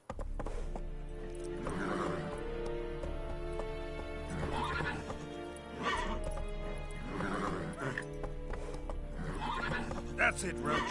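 Roach the horse in The Witcher 3 whinnies several times over steady hoof clip-clops while galloping, fairly quiet, with a voice talking over the game sound.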